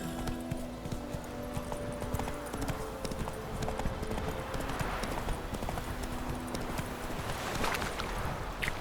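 Horse hooves clip-clopping at a steady walking rhythm in the video game Witcher 3, continuous and close over a busy background of ambient game sound.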